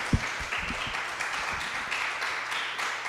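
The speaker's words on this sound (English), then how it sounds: "give them all a big round of applause" An audience at an evening forum on gun legislation applauds its panelists with sustained, dense clapping at moderate volume, with a few sharper individual claps standing out.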